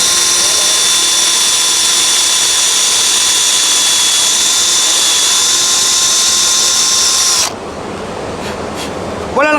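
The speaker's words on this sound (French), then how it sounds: "Je viens de percer." A 3-in-1 countersink drill bit bores a pilot hole and countersink in wood, giving a loud, steady whine for about seven seconds that stops abruptly, leaving quieter handling noise.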